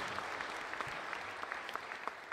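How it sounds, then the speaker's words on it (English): Audience applause at an evening elevator-pitch event: steady, dense clapping from a crowd, even and sustained throughout, heard at moderate distance with no talk. "let's have a big round of applause"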